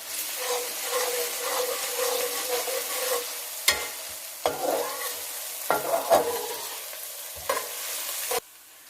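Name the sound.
frying onion with ginger garlic paste in a pan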